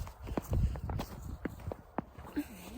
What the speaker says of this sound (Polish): Słyszycie, jak zgrzyta fajnie śnieg pod stopami.